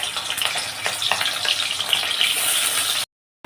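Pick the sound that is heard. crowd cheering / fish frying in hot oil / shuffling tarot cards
fish frying in hot oil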